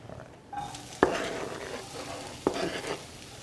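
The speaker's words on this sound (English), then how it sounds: "we'll just saute this until the onions and the peppers become tender" Onions and peppers sautéing in a pan, a soft, low sizzle broken by two sharp utensil clinks and stirring scrapes.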